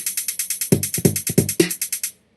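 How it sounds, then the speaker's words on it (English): Trap drum pattern from a web-based Groove Pizza drum machine: a steady stream of fast, crisp hi-hat ticks throughout, joined midway by four punchy low kick-and-snare hits, ending abruptly. "And here's a trap sound. Get ready for lots of hi-hat."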